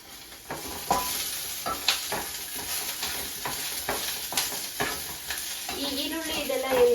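Sliced onions roasting in plenty of oil in a pan for soya chunks biryani, a steady close sizzle broken by frequent scraping stirs of a spoon throughout, with no talking.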